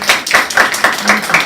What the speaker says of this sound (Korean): 그래서 박수 한번 하세요.